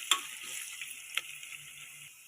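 Green chillies, bay leaves and fenugreek stir-fry in oil in a frying pan for a potato kurma curry. A steady soft sizzle runs throughout, broken by a couple of sharp spatula clicks against the pan, close and with no voices.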